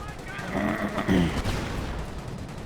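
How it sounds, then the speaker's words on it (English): A 25-pounder artillery barrage in the Company of Heroes video game, heard as a dense rumble of battle noise with overlapping gunfire and blasts under a voice talking. "Artillery running on in. 25-pounder barrage."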